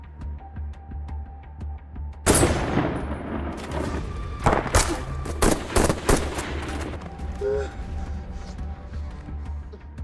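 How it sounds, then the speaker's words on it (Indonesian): A sudden burst of rapid gunfire in a film erupts after a quiet hum, with several sharp, loud shots cracking in quick succession before fading to background rumble. "terkena tembakan headshot"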